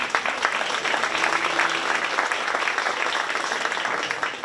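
A crowd applauds the kids showing market beef cattle at a 4-H county fair, giving a steady, moderately loud round of clapping with a faint voice murmuring beneath early on.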